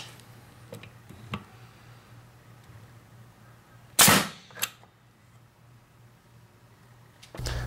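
A pneumatic corrugated fastener gun drives fasteners into a carrot, giving one sharp, loud pneumatic crack with a quick echo against a faint hum, plus softer clicks before and after.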